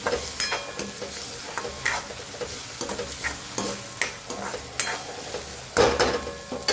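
Vegetables with tomatoes stirred and cooking in a pan, with a soft continuous sizzle broken by repeated scraping stirs and light utensil clinks close by, no talking.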